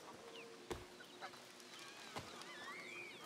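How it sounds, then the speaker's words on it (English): A giant goose in the video game A Plague Tale: Requiem honks twice, short loud nasal calls about a second and a half apart, set against a quiet market ambience with faint bird chirps. "This giant goose is in every market."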